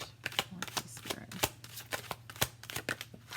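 A tarot card deck is shuffled close up, giving a quick series of crisp riffling snaps and flutters in an uneven rhythm under a low steady hum.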